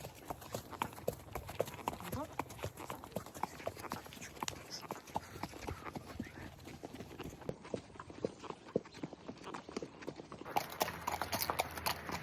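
Steady clip-clop of horse hooves on a hard surface, a brisk even rhythm continuing throughout, with faint background noise.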